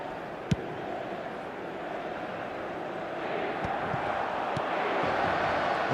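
A stadium crowd in the football game eFootball 2025 keeps up a steady broad roar that swells slightly toward the end, with a few sharp knocks and faint commentary under it.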